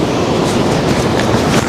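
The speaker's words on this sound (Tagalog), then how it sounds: "Lakas ng hangin." Strong wind sweeps a sandy beach at a camping spot, making a loud, steady rushing roar that buffets the microphone.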